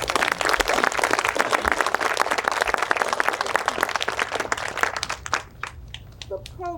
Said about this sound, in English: put your hands together and really applaud them for this outstanding